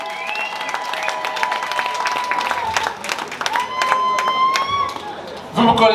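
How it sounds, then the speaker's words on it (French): An audience at a cultural community event claps in a dense, sustained burst of applause, mixed with crowd chatter and voices, swelling louder near the end. "Applaudissez une fois pour CESCA New York"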